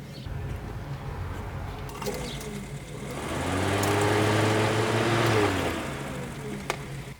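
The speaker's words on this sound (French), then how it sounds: "Je suis curieux de savoir si le ventilateur fonctionne." A Suzuki Cappuccino's electric cooling fan whirs steadily after the car was fully submerged in a flood, swelling louder in the middle and then easing off, with faint clicks and mechanical rattles around it.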